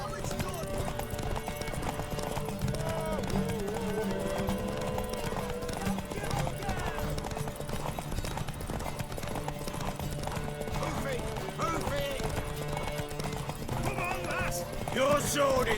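Horse hooves clip-clopping and a horse neighing in The Witcher 3: Wild Hunt, a steady hoofbeat rhythm running throughout with whinnies, mixed under game music and character dialogue.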